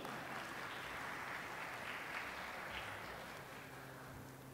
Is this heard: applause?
yes